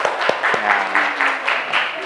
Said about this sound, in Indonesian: beri tepuk tangan untuk kelompok 7